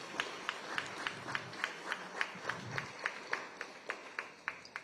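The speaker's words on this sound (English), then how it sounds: "Give yourselves a round of applause." Audience applause at a political roundtable, a steady patter of clapping hands from a moderate crowd, fairly even and sustained for several seconds without speech.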